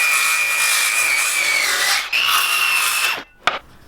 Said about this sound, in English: so I upgraded to a skill saw.